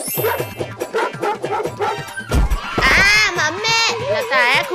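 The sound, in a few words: cartoon dogs barking and attacking children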